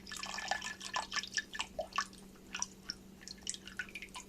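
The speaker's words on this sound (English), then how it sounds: "And then you can just pour the juice back in" Venison stew juice poured back into a pot, heard as irregular splashing drips and liquid trickles over a low steady hum, close and moderately loud.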